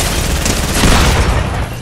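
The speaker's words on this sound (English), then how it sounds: "P-Chan's shooting you the whole time" Loud, dense gunfire from the video game Fortnite, a continuous rattle of overlapping shots and booms close up, with no break or talk over it.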